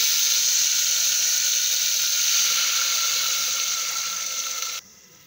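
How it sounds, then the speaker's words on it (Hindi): A little water is poured from a tap or vessel into a pan of cumin while cooking bottle gourd sabzi, a steady close hiss of running water that cuts off near the end. "अब हम इसमें क्या करेंगे, थोड़ा सा पानी डाल देंगे।"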